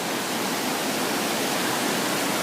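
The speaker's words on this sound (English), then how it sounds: "So this doubles back into the waterfall." A fast-moving waterfall at Scotts Mills Park, Oregon, where the water doubles back as it drops, gives a steady, dense, loud rushing roar that stays even throughout with nothing else heard.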